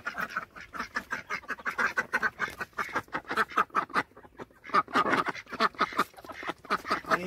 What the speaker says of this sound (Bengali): রিসর্টেরই হাঁস এগুলো।